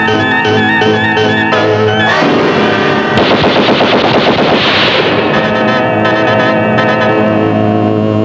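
Sustained bursts of rapid machine gun fire, loud and close, layered with dense rattling shots and a dramatic musical backdrop throughout.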